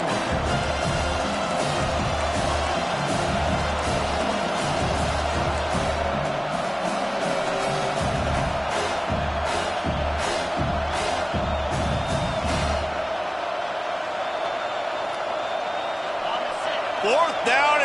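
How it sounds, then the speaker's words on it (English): A packed stadium crowd roars throughout a College Football 25 game between Miami and Iowa State, a constant loud wash of noise with thumps, while a commentator talks over it. "this crowd is making it miserable on this offense"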